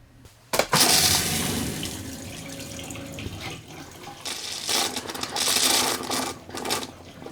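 An RV camper's water pump running while water is pushed through the plumbing during winterizing, a continuous buzzing whir with gushing, hissing flow that swells and fades in bursts, close and loud.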